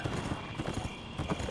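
Horse hooves clip-clop in a steady trotting rhythm as a character rides through the fantasy game Revelation Online, close and fairly loud, with occasional faint whinny-like tones underneath.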